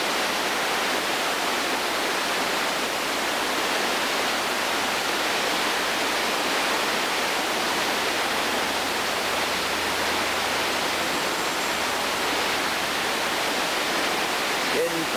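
Whitewater rapids on the North Fork Payette river rush in a loud, steady broadband roar, unbroken and close for the whole stretch.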